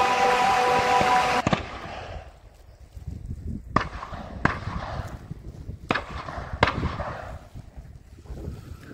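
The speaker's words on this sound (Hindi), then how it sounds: "यहाँ फायरिंग का ट्रेनिंग होता है उस पहाड़ के पास इस वजह से आप लोगों को सुनाई दे रहा होगा आवाज़ फायरिंग का" Gunshots from a CISF firing range near a hill ring out in the distance as a series of separate sharp cracks at irregular intervals, with steady wind noise outdoors underneath.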